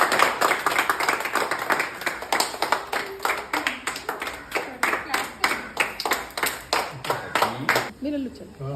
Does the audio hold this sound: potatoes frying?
no